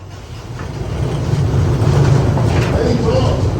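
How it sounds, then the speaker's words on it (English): A mine train at a copper mine rumbles and clatters on its rails, a loud rolling roar that builds over the first second and holds steady, with faint clicks above it. "Hey Tom, hold the train there"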